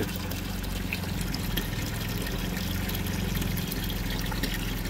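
Continuous trickle and splash of water pouring into a container, steady and close, with a low hum underneath.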